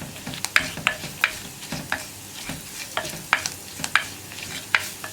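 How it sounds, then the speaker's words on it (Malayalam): Onion and spice powders frying in a pan for Kerala moru curry, with a soft continuous sizzle broken by repeated sharp scraping stirs of a spoon at an irregular rhythm, close and moderately loud. "ഇതുപോലെ നമ്മൾ ഉള്ളിയുടെ കൂടെ പൊടികൾ മൂപ്പിച്ച് ചേർക്കുക."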